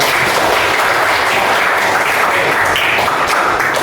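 A classroom of students applauds a classmate after a presentation in a religious education lesson, loud continuous close clapping filling the room without pause.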